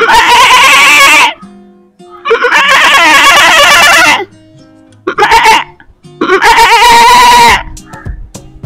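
A man imitates a goat bleating: four loud, quavering bleats of varying length, close and harsh, separated by short pauses with no talk between them.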